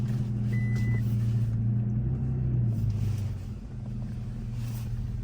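Low, steady engine drone from a 2022 Toyota Tacoma TRD Pro with a 3.5-liter V6, six-speed manual and aftermarket muffler, heard from inside while driving, a continuous rumble that eases slightly toward the end.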